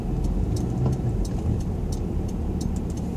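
A car with no tax or MOT being driven on the road to a pre-booked MOT test, a steady low engine and road rumble running continuously from inside or nearby, with no talk.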